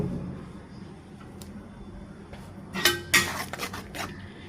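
A spoon stirs turmeric and chili powder into a pangas fish and potato curry, a few sharp metallic scrapes and clinks against the pot over a low background hum.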